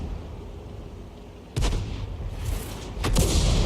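An M12 self-propelled artillery gun in World of Tanks fires a round with a sudden heavy boom, followed by a rumbling tail and then a second sharp blast, all loud and close over quiet ambience.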